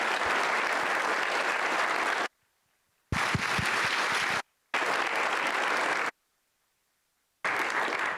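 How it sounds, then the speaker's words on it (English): A conference audience at an AI forum in San Francisco gives a panel a round of applause, sustained crowd clapping broken by abrupt cuts to complete silence between bursts. "Can you all join me in a great round of applause for this great panel?"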